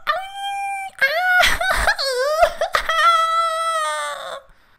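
A human voice imitates a koala yelping in pain, drawn-out whining howls and wails rising and falling, with short sobbing breaks between them, close and loud.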